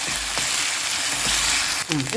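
Mutton curry ingredients fry in a hot pan with a steady, loud sizzle and hiss throughout, then stirring scrapes and a brief voice near the end.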